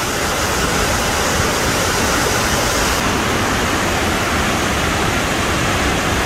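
Burney Falls, a waterfall near Redding, California, roaring as a loud, steady, close wash of falling water with no other sounds.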